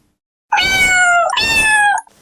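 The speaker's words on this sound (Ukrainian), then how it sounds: "Кішечка каже мур-мур-няв." A cat meows twice in a children's song about animal sounds, two long, clear, tonal meows in quick succession, close and loud against silence.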